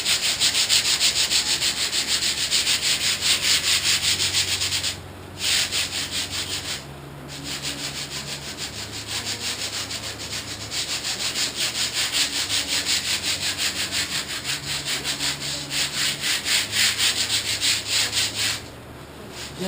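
Steady back-and-forth scraping of 36-grit sandpaper rubbed lightly by hand on sheet stock, rhythmic strokes continuing with brief pauses, close and fairly loud.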